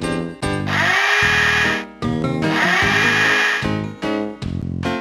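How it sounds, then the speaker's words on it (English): Hammer and drill tool effects from a Bob the Builder plug-and-play video game: loud, close electronic whirring bursts with stops and restarts, including short repeated pulses, heard alone with no voices. "That's the hammer. That's the drill."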